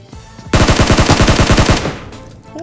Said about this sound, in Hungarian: Már megy a lövöldözés rendesen.